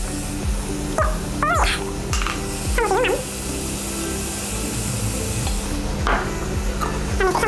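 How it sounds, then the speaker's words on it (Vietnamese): Pork ribs are stir-fried in a pan, with a continuous sizzle under repeated scraping and clattering strokes from a utensil, plus occasional squeaky tonal bursts. "Rồi bây giờ mình sẽ đảo sườn, sau đó là ninh sườn."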